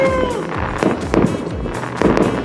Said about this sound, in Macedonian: Гледа, не петарди се.